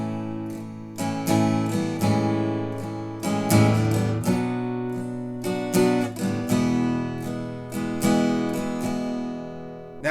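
Guitar plays the intro of a classic country song, a run of clear plucked and strummed chords with distinct attacks that ring out and decay, heard alone, close and moderately loud.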